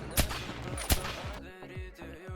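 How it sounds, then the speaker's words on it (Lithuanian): Gunfire in a multiplayer video game, a couple of sharp loud shots early on followed by a burst of quicker, softer reports with ringing tails, all without talk. "O, šaudo, bet nematau, kur"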